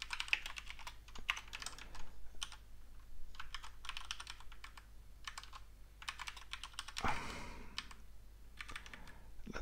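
Typing on a computer keyboard during software development, close clicks and clacks coming in quick bursts separated by short pauses, with no voice.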